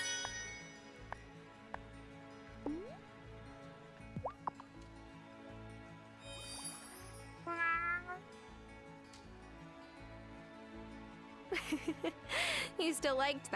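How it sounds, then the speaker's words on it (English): A cat meows a few times, short rising calls spread across a quiet room, with a louder cluster of yowls near the end over faint steady background music. "You still liked that, didn't you, Kitty?"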